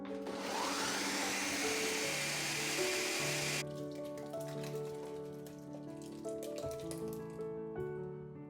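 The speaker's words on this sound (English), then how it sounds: "The salsa is blended in batches" A blender whirs loudly through a batch of homemade salsa, a dense steady roar for a few seconds before the motor note shifts and settles into a lower, steady churning hum.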